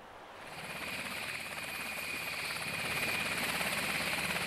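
Steady, dense rotor and turbine roar of a helicopter at an offshore platform helipad, holding at a constant loud level and swelling slightly toward the end, with no talking.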